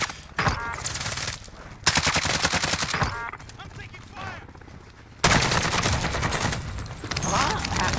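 Automatic weapon fire in Call of Duty Warzone, an AK-47 built as an SMG, rattles out in loud rapid bursts with short pauses between them, mixed with other battle noise.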